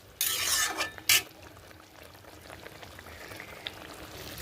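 Okra curry simmering in a pan on a gas stove gives a soft, steady bubbling hiss, opening with a couple of louder splashy bursts of noise before settling into a quiet, continuous simmer with faint pops.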